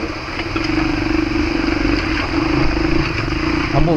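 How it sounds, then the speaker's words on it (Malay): An off-road motorcycle with a new battery runs in a forest, its engine giving a steady, loud, close throb with light mechanical clatter throughout, no distinct start-up moment standing out. "Motor aku ni untuk bateri ni, tak boleh nak start. Pakai starter."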